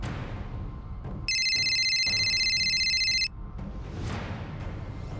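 An electronic telephone rings with a steady trilling tone for about two seconds and then stops, clear over a low room rumble, with no talking.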